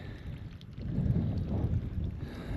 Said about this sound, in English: It's always windy through this canyon every time I'm here.